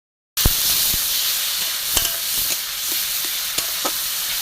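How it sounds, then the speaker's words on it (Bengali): Spices sizzle steadily in a hot pan while being sautéed for a duck egg curry, a continuous hiss with a few soft clicks and stirring knocks, close and fairly loud, with no talking. "ভালো করে কষিয়ে নেবো।"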